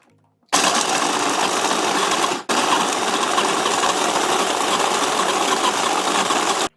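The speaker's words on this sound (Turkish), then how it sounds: "Gördüğünüz gibi robotla çektim bunları ince bir kıvama geldiler." A food processor whirs through pistachios, dates, tahini and cocoa, a loud steady motor drone that starts sharply, pauses briefly mid-run, then resumes until cut off.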